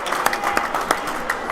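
A crowd in a high school boys basketball gym applauds a player, with brief scattered clapping that rises and fades over a moment, fairly close.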